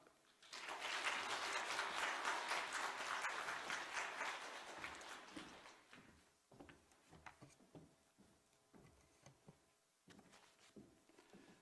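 A church congregation at a special dawn prayer service in Ansan applauds to welcome a visiting pastor. The clapping is loud and dense for about five seconds, then thins to scattered claps and light rustling.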